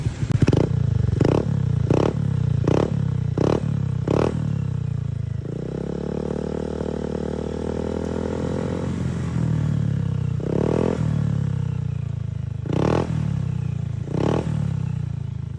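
A Honda Beat scooter fitted with a Kvin pipe exhaust revs in a run of sharp, loud throttle blips, then holds a steady deep rumble at low RPM, and ends with a few more quick revs, all close up with no talk.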